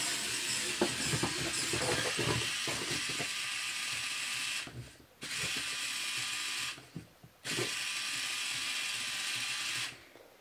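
Electric motors whir as an RC Volvo A40D model articulated truck runs on 7.4 volts, a steady mechanical buzz with rattling and ticking that drops out twice in short gaps, close and without talk.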